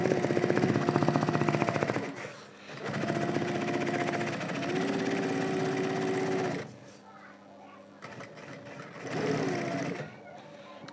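A sewing machine stitches a nonwoven bag, its fast mechanical whir running in bursts with brief pauses, close and steady, with someone talking over part of it.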